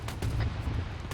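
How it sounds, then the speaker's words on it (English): Mortar fire booms in a military video game, a short burst of low, heavy thuds rolling in from a distance. "Those mortars you're hearing right up our ass are having forces."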